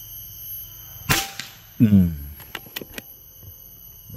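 Air rifle fired during a barrel accuracy test, with a single sharp shot followed by a short ringing tail and a few lighter clicks and taps afterward, fairly close and loud.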